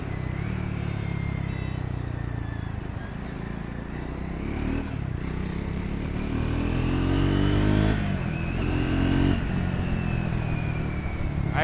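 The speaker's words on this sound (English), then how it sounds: "Hear the engine sound." Triumph Scram 400 motorcycle engine revving while riding, a steady loud drone rising and falling in pitch through the gears, close and continuous with wind noise.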